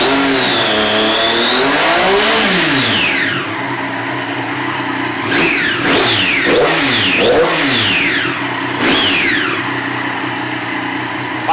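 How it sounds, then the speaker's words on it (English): A 2014 Triumph Daytona 675R sport motorcycle engine, hot and near its top temperature, idles steadily and is revved up several times in quick, sharp rises and falls, loud and close with no talk. "So I'll give you a bit of a rev."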